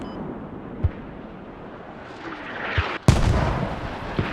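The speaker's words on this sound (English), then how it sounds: "So we have mortars for the Americans as well, mortars on Hilltop." American mortars firing on a hilltop in a video game battle, a couple of dull distant thumps followed by a louder close boom and a rumbling tail, over low battlefield ambience.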